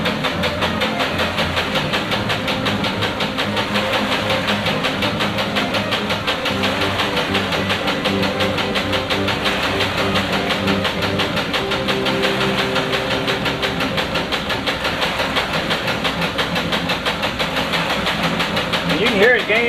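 A 20 horsepower electric motor runs steadily with a continuous hum and a rapid rhythmic pulsing, holding loud and close throughout; the pitch stays largely steady across the stretch.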